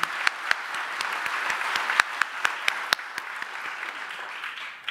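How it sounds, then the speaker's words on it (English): Applause at an evening awards ceremony, a broad crowd clapping steadily with a few sharp, close individual claps standing out above the wash before it starts to fade. "We can applaud that."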